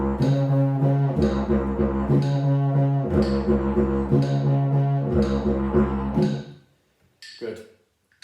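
Didgeridoo played in a simple starting exercise, alternating rhythmic da-ga-da drum-like pulses with trumpet-style toots; a steady, loud droning tone pulses in even repeated bursts for about six seconds, then stops with a couple of short sounds after.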